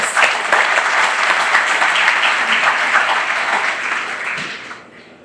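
A crowd at the Trempealeau County Fair opening ceremony gives a loud, sustained round of clapping that fades out near the end.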